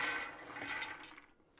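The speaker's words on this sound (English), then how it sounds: "So I'm just go ahead and drain out this water real quick." Soaking water drains from a pot of dry beans in a steady, close rushing pour that gurgles and fades toward the end, with no one speaking.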